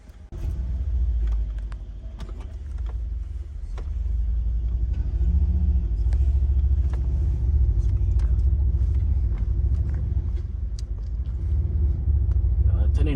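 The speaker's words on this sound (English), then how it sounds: "This is a quick drive of a C63 W205." A 2015 Mercedes-Benz C63 AMG W205 exhaust drones steadily from inside the car while driving, a loud continuous low rumble that swells slightly with throttle, with occasional voices talking over it.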